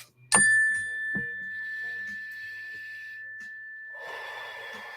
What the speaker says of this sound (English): When you hear the mindfulness bell, everybody take a deep, slow breath